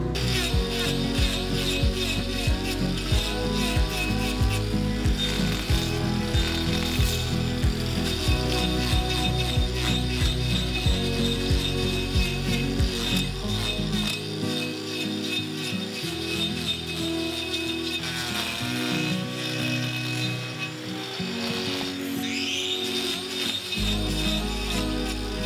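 A spinning trimming wheel grinds against a cow's front hoof with a loud, continuous rasping whir that shifts in pitch as it presses and lifts, faint talk underneath.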